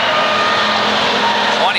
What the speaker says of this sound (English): Car number 27 comes to life down the backstretch as Norman Rue looks to take over